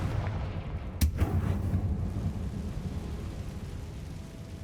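A Confringo blasting spell explodes in the Hogwarts Legacy video game, giving one sharp loud blast followed by a rumbling, crackling tail that fades over several seconds.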